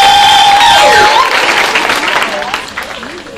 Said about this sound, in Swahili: Makofi hayajatosha jamani.